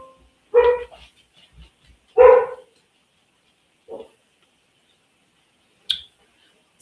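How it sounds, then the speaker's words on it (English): Dogs bark from a distance in a quiet room, two louder barks followed by a few fainter single barks with long silent gaps between them. "y'all probably can hear the dogs"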